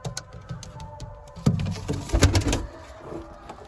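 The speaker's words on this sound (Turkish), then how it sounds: "Zaten duyuyor musunuz ses? Kuştan çıkan seslere bakın." A pigeon with a respiratory infection makes rough, raspy breathing and gurgling sounds close by, in irregular bursts that swell midway through, with faint background rustle.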